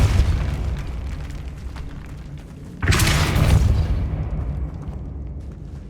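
A Depulso spell blast in Hogwarts Legacy goes off as a sudden booming burst midway, rising over a low rumbling game background and then decaying into a softer hiss.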